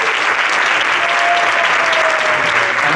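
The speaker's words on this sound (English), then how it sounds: "Special round of applause for our special guest" A crowd at an ISKCON Bhakti Mela gathering applauds a special guest with loud, dense, continuous clapping that fills the room evenly from start to finish, heard alone without any voices.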